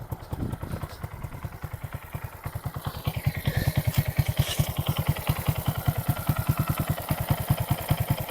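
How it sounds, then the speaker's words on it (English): A 2022 Honda Grom idles in neutral close by, a steady fast putter of evenly spaced pulses that grows slightly louder partway through, with no talking over it. "Bike running."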